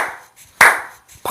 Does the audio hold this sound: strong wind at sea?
no